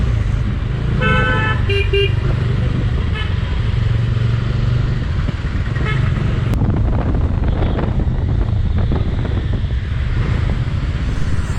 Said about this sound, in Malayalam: നല്ല ട്രാഫിക് ഉണ്ട്, ഒരുപാട് വാഹനങ്ങളൊക്കെ ഉണ്ട്